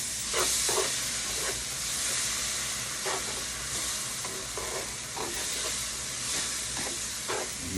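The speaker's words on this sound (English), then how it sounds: "Slowly start incorporating the water." Water poured slowly into a hot pan of flour-dredged liver, giving a steady sizzling hiss with stirring scrapes throughout, close and continuous.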